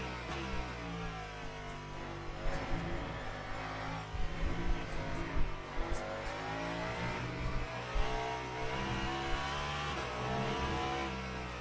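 A Peugeot prototype race car engine in the sim racing game Le Mans Ultimate at Spa, a steady high-revving drone that rises and falls with gear changes, with a few sharper surges in the middle.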